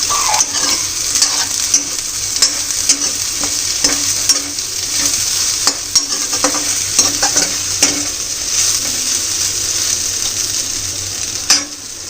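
Food fries in oil spread across a kadhai while being stirred, giving a loud, continuous close-up sizzle with repeated scraping and clinks of the spoon against the metal pan.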